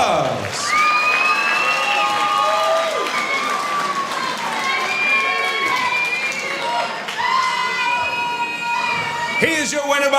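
A fight club crowd in Rancho Cucamonga, California, cheers, whoops and applauds for two competitors after a bout, a loud sustained roar of voices with whistles and shouts cutting through.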